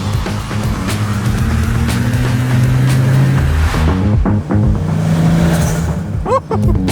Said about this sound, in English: It's got a blow-off valve, James.